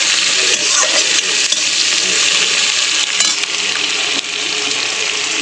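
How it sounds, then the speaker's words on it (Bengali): Vegetables and small shrimp frying in a pan in a home kitchen, a loud steady sizzle filling the whole stretch with occasional stirring scrapes and clinks. "এটা যখন আনাজটা একটু ভাজা হয়ে যাবে তারপরে মিলিয়ে দেবো"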